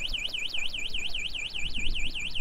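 A DYU A5 electric city bike's anti-theft alarm, triggered by touch, wails shrilly and continuously in a fast rising-and-falling warble, loud and close, with faint handling noise below.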